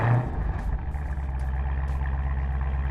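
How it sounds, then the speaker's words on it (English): A Dodge Challenger ScatPack V8 settling into a steady, loud idle after a cold start, with a deep, even rumble and no talk over it. "Here go that famous cold start on a full tank of gas"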